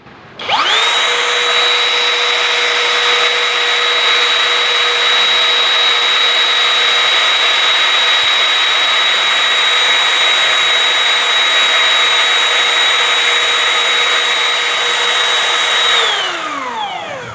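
Worksite CR326 20V brushless cordless wood trimmer set to speed 6 spins up, holds a loud, steady high-pitched whine for about fifteen seconds close by, then winds down at the end.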